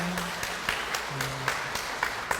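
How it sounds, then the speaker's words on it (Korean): Sparse applause from a church congregation welcoming guest pastors at a Sabbath school training session in Korea, with scattered individual claps over a quiet room and a faint voice underneath. "박수로 환영해 주시기 바랍니다."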